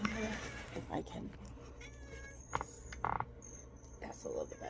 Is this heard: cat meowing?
yes